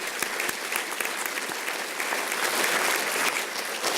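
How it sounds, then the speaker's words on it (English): A healthcare conference audience applauds steadily for a few seconds, with many hands clapping close together in a full, even burst. "could we have a rousing round of applause for Paul, Margaret, and our sponsors for this year's conference"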